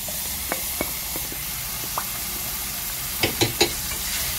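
Meat sizzles in hot oil for Sate Padang, a steady hiss with scattered small pops and a few sharper crackles, close by and with no talk.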